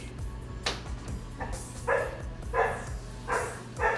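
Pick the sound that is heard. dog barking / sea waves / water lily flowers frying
dog barking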